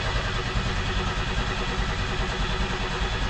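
A 1990 Pontiac 6000 SE AWD engine cranks steadily without catching, a continuous even mechanical drone heard at moderate distance.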